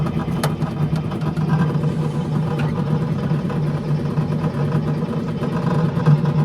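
A tractor ride engine at Plopsaland amusement park in Belgium runs steadily nearby, a loud, even mid-pitched drone with a slight rise in revs.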